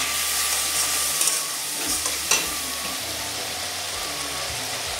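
Ginger paste, garlic paste and chili powder sizzle and fry steadily in a pan, with a few sharp clicks of stirring against the metal partway through; no voices.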